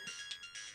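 A phone ringtone in a Hindi comedy household scene, a short run of bright electronic tones pulsing in quick bursts, heard alone.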